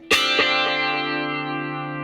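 A single electric guitar chord through a short delay and flanger rings out with a couple of quick repeating echoes and a swirling, sweeping shimmer as it sustains and slowly fades.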